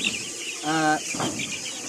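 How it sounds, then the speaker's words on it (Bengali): A single short, tonal cluck rises from Colombian Brahma chickens, close and brief, in a quiet pen with soft background noise. "এই মুরগিগুলি দেখুন কত সুন্দর মুরগি"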